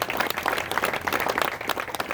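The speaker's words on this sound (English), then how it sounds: "How about a round of applause for" An audience at a midshipman training ceremony applauds the staff and drill instructors with sustained, fairly loud clapping from many hands, even and unbroken throughout.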